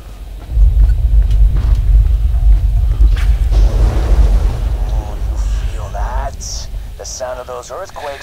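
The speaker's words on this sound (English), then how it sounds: "those earthquakes marks my drills getting closer and closer to the vaults" An earthquake rumble in the Borderlands 2 video game, caused by drilling, comes through as a loud, deep, continuous rumble, with brief game effects and chirps layered on top toward the end.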